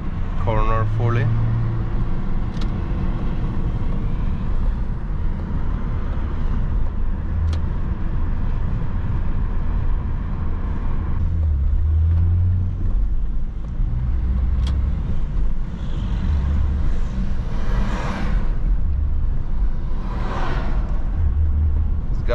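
A remapped BMW E34 525 TDS Touring with its old diesel engine drives through the city, giving a steady, loud road and engine rumble throughout while someone talks over it.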